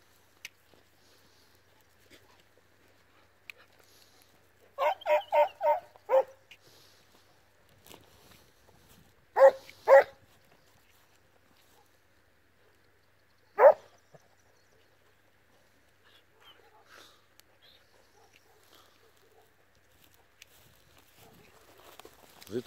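A hunting dog puppy of about thirteen months barks outdoors during hare hunt training, giving a quick burst of several barks, then a couple of single barks further apart, separated by long quiet stretches.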